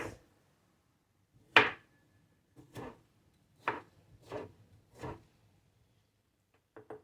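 A knife slices vegetables for a fresh salad on a cutting board, several separate sharp cuts spaced a second or so apart in a quiet room, close and crisp.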